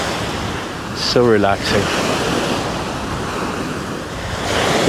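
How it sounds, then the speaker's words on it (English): Ocean waves wash onto a beach in a loud, steady roar with wind noise throughout, while a voice briefly speaks over the surf. "I love the sound of the water. The waves, you know."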